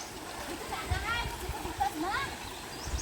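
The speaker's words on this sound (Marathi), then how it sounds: "पाण्याचा आवाज घ्या" Stream water flowing at a village washing spot in Konkan, a steady rushing wash that runs throughout while voices talk over it.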